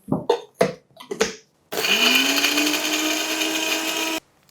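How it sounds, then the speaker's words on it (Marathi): Green chillies and ginger ground in a kitchen mixer grinder: a few short taps and knocks, then a loud, steady motor whir for about two and a half seconds that cuts off abruptly. "हिरवी मिरची आणि आलं हे मिक्सरला छान फिरवून घ्यायचं"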